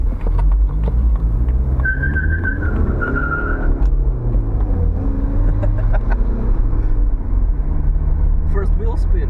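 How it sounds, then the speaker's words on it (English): A turbo diesel coupe engine drones steadily and loudly throughout, with a brief whistling tone partway through, as heard from inside the car. "Famous sound of a turbo diesel"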